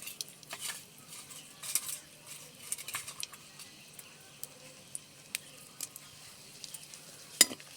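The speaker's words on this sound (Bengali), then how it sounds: "তেলে কটা শুকনো লঙ্কা দিয়ে দিলাম কেটে" Faint sizzling of dried red chilies frying in oil, with soft crackles and occasional clinks of a utensil stirring in a pan.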